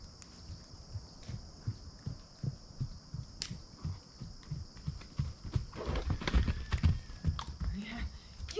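A horse canters with rhythmic, close hoofbeats that grow louder and denser toward the end, alongside faint voices and a steady high background tone.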